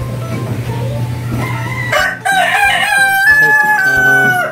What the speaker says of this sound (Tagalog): Yung ating bagong breed na manok.